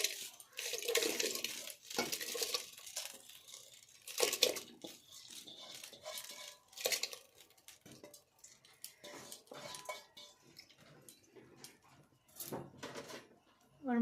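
Soaked rice goes into a pot of hot water with busy clattering and scraping of metal utensils against the pot, steady clinks and stirring sounds throughout, fairly close and moderately loud.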